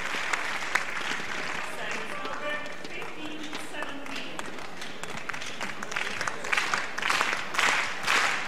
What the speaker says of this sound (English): the crowd playing their part to try and encourage the European pair.